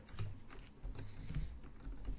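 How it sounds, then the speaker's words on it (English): Keys pressed on a computer keyboard during bookkeeping data entry, a few soft, scattered clicks and taps close by, with no talk. "we push tab on our keyboard to save the amount in the field"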